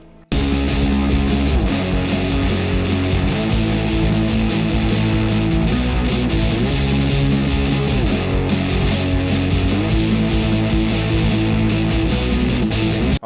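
Full-band punk rock mix built around a cheap $100 electric guitar, loud and continuous with driving drums, steady distorted rhythm chords and a repeating riff pattern throughout, no voices.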